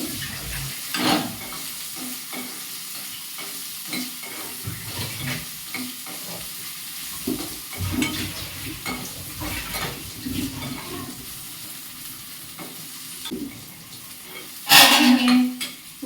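Chopped okra frying in a pan for a Rayalaseema-style tangy curry, with a steady soft sizzle and repeated scraping and clinking of a spoon stirring against the pan, and a brief louder clatter near the end.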